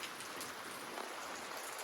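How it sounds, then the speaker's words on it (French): Steady rain falls in a soft, even hiss, faint and continuous with no voices. "Il a plus plu depuis je sais pas combien de temps et là il pleut."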